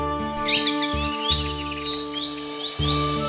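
Cartoon bird chirping in a children's animated farm story, a run of high, quick tweets over steady background music, fairly loud and with no talk.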